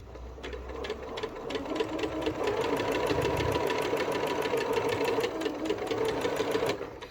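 Elna 6200 Decorator's Touch sewing machine running a straight stitch, a close, steady rapid needle clatter with a motor hum, continuous for several seconds with no talk.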